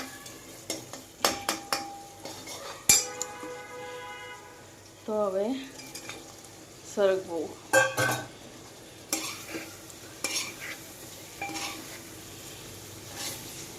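Cooked drumstick pods being stirred into a tempering of crushed tomatoes in a pan, with intermittent metal spoon clinks and scrapes over a soft sizzle, close and fairly quiet, while someone talks briefly.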